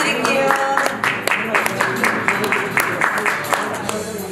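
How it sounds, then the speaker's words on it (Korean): Close, lively clapping from the crowd at a 2018 Korean awards ceremony after a youth sports development prize is announced, irregular sharp claps rolling on steadily with some voices underneath. "큰 박수 부탁드릴게요"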